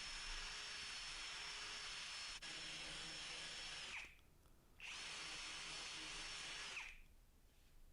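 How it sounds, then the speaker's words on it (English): A power drill with a countersink bit recesses screw holes in a woodworking bench for fitting an Irwin Record V175 vice, running in two sustained loud bursts separated by a short pause. "I need to recess the heads of these screws. So I'm just doing that now with a countersink bit"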